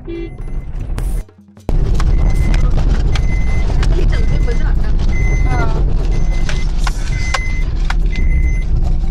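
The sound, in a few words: car driving up a rough off-road trail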